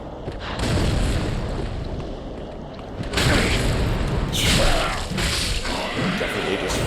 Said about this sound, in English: Definitely just face tank the fireball